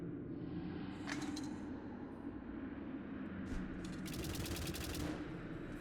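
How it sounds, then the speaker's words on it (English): Gladys turret fire in the video game White Knuckle: rapid bursts of gunfire in short clusters, ringing over a constant low mechanical hum, with a longer, louder burst near the end. "it totally is a Gladys turret"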